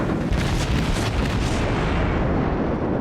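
Naval gunfire in the World of Warships video game, a dense, loud rumbling barrage of booms and explosions that fills the whole clip with no pause and no talk over it.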